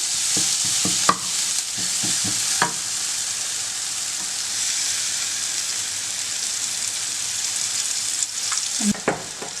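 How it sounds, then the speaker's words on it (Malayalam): Curry leaves crackle and fry in hot oil for a dried shrimp stir-fry, a steady close sizzle throughout with a few scraping knocks of the spoon as the pan is stirred, no voices. "കറിവേപ്പില അവിടെ കിടന്ന് നന്നായിട്ട് മൊരിഞ്ഞോട്ടെ അതിൽ കിടന്നിട്ട് നമുക്ക് ഒന്ന് ഇളക്കി കൊടുക്കാം"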